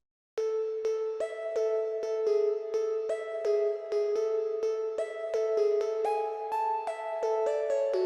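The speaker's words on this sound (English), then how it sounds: "I used this pluck from my preset pack." A bright synth pluck preset plays a steady progressive house melodic pattern of short, bell-like notes, clean and close with no other sounds.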